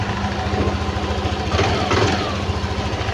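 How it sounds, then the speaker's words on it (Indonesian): A Yamaha fuel-injected motorcycle engine idles close by with a steady, low, even putter, running alone without voices. "Oke, motor sudah hidup."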